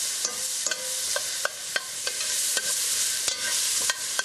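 Onions sautéing in a pan for a corned beef and barley stew give off a steady bright sizzle, broken by sharp clicks and scrapes of a spoon stirring every half second or so, with no talk.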